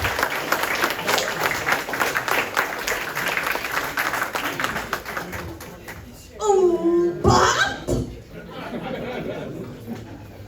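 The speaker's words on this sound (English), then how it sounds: "Big round of applause." A crowd applauds steadily for several seconds, with cheering and a voice over the clapping as it fades out.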